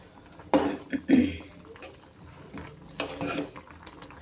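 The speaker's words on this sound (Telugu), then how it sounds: "వేసి ఒకసారి కలుపుకొని" A spoon or ladle knocks and scrapes against a cooking pot while okra soup (bendakaya pulusu) is stirred, with a few distinct clanks and scraping strokes and soft sloshing between them, fairly close and at moderate volume.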